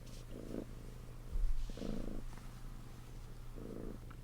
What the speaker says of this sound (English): Just have purring in the background of my video from now on.